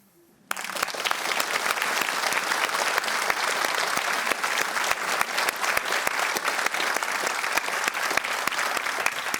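A theatre audience applauding storytellers at a live evening event, sustained dense clapping that starts suddenly and continues evenly for several seconds, fairly loud and close.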